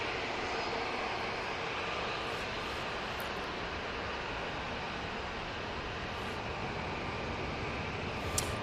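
A Boeing 787-8 Dreamliner departs Manchester Airport with a constant, wide, hissing jet roar that holds at a steady level throughout.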